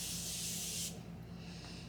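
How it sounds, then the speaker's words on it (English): A makeup setting spray mists onto a face in one soft, close hiss that lasts nearly a second and then stops, leaving quiet room tone. "I spray my setting spray before the highlight because it just like sticks on nice and good."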